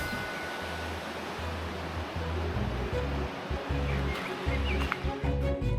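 Staubbach Falls in Switzerland's Lauterbrunnen valley sends out a steady, broad rushing roar of falling water, continuous for several seconds, with low rumbling underneath.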